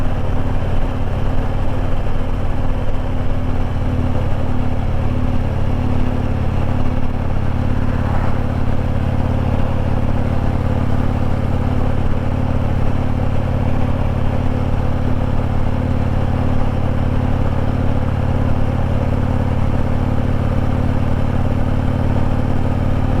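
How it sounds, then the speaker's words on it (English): Harley-Davidson motorcycle engine pulling uphill on a state forest road, a loud continuous close rumble with steady engine drone and wind noise, no talk heard. "Harley's running great."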